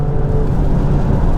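Alfa Romeo Stelvio Quadrifoglio engine pulling hard under acceleration, a steady loud low-pitched drone heard from inside the cabin with no break in the roar.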